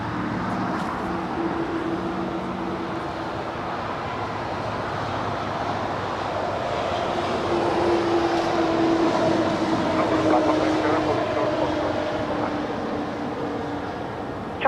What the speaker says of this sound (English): the Lufthansa Queen now starting her taxi, heading on up to the north side for a departure on 24 left